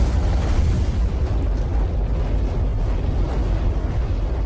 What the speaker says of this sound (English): There's invisible fire in here.